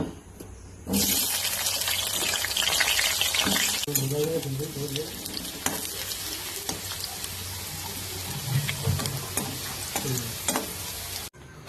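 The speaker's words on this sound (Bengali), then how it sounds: "এবার আলুগুলো ভেজে নেব" Potatoes frying in a pan, a loud close sizzle that rises sharply near the start with scraping and stirring clatter, while a voice talks briefly over the cooking.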